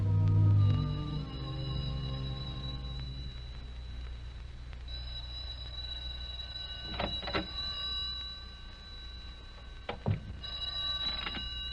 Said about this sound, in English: The phone was ringing when I came in the door.